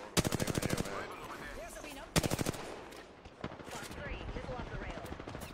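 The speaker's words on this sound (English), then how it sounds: "they're shooting down on us" Rapid bursts of automatic gunfire from enemies in a battle royale video game, two loud volleys followed by a sharper single shot and faint scattered fire, with game sounds and voices underneath.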